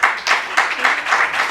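Audience applause for an old ship's bell from the frigate Pizarro, shown at a history talk about leaving Equatorial Guinea; a brief burst of clapping in uneven waves, fairly close and loud, with no speech over it.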